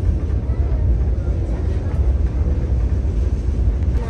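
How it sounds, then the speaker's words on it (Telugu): Chennai to Mysore Shatabdi Express rounding a curve near Bengaluru, heard from inside the chair car as a steady, loud low rumble with a rhythmic wheel drone throughout. "ఓ టర్నింగ్ కొడుతుంది చూడండి ట్రైన్."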